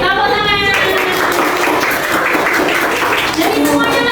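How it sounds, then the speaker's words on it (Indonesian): A classroom group claps together after finishing a lesson activity, dense and loud hand clapping mixed with children's voices throughout. "Sudah selesai. Tepuk tangan."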